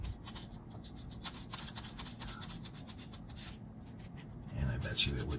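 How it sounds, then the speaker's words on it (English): Sandpaper rubbed back and forth on a small RC crawler axle part, a quiet, scratchy rasping in quick, uneven strokes that runs throughout and turns a little louder and coarser near the end. "Just get a little bit of sanding going on here."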